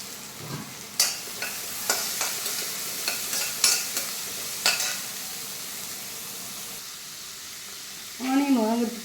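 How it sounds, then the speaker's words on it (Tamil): Onion and carrot sautéing in a pan, a series of spatula scrapes and stirring strokes over a soft sizzle, then a voice speaks briefly near the end. "இதில் கொஞ்சம் ஆனியன் இருக்குது, அதையும் போட்டுக்கலாம். கேரட்டும் போட்டுக்கலாம். நல்லா 2 வதங்கட்டும்."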